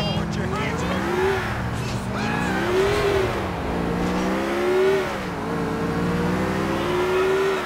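Car engine in the video game GTA IV, revving up and down through repeated gear shifts with a steady droning roar throughout, loud and close, with occasional tire noise.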